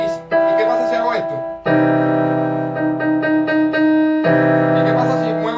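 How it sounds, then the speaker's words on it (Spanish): Piano playing sustained chords and notes, shifting through several harmonies with clear onsets, loud and close with no voices. "vamos a agarrar el piano. Y hago un do"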